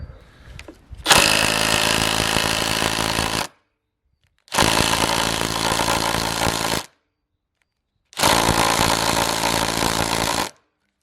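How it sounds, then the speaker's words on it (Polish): Parkside Performance PDSSAP 20-Li impact driver with a 2Ah battery drives an 8x200 mm carpentry screw into wood in three loud, rattling hammering bursts of about two seconds each, separated by silent pauses. "Zobaczymy, czy da radę wkręcić z akumulatorem 2Ah."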